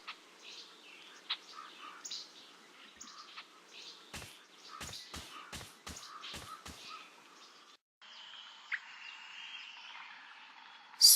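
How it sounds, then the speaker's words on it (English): Swamp ambience from The Longest Journey video game, a steady layer of insect buzz and bird chirps with a run of sharp clicking knocks midway, then a denser droning insect bed toward the end. "Swamp water. There are things moving down there."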